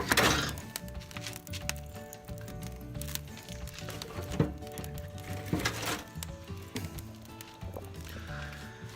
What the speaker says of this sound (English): I like to start out with 2 of these logs and just put it right on the fire.